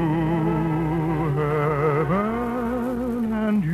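A song in its motion picture version, with a sustained melodic line over orchestral accompaniment that swells steadily and plays on its own without talk.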